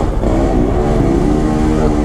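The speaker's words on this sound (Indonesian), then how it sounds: "Knalpotnya patah barusan tuh ya." A motorcycle with a broken exhaust revs loudly on a busy road in Canggu, Bali, its rough, rattling engine drone steady and close for a couple of seconds with no talking over it.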